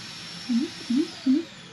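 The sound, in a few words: robot vacuum emptying itself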